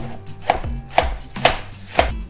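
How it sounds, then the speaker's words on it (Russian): A knife finely shreds cabbage in four evenly spaced, crisp strokes on a board, close up, with no talking. "Для него нам понадобится капуста. Все пропорции напишу в описании к видео. Достаточно мелко шинкуем ее"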